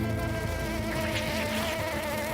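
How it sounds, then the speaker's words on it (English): A large American wasp buzzes steadily and loudly close by, a continuous droning hum with a faint whine rising briefly in the middle, with no talk over it. "That is a wasp. It's enormous."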